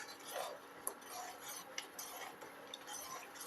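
A spoon stirring a rice kheer mixture with nuts and raisins, giving faint, soft scraping and a few light metallic clinks against the pot, quiet and close with no talking.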